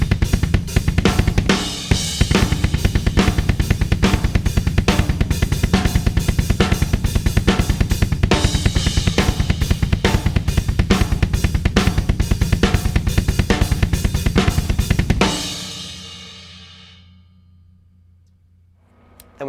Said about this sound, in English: then the kicks pick up to a straight double bass beat, and then I play a 3/4 pattern with the hi-hat that sounds like this.